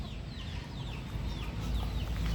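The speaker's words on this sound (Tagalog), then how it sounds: "Yan ang aming kaisa-isang inahin na bulik." A hen clucks softly several times against a steady low background rumble, with faint bird chirps higher up.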